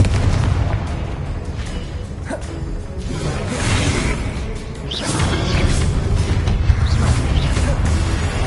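Explosive spell blasts from the Hogwarts Legacy video game, a dense, loud run of booming bursts and crashing impacts with whooshes over a continuous rumbling battle bed, with brief voice-like fragments mixed in.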